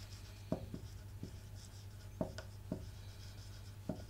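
Pen or pencil writing by hand on paper while working a geometry problem, quiet scratchy strokes with a few sharper taps spaced irregularly over a low steady background hum.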